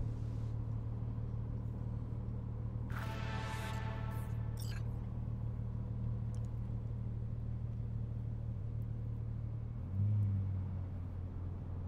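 A car drives through Cyberpunk 2077's Night City with a steady low engine hum and rumble throughout. A brief sharper burst near the third second and a deeper surge toward the end are heard.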